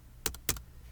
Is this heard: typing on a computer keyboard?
yes